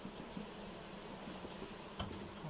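A faint, steady buzz of bees hums in the background with a soft tick near the end, no talking.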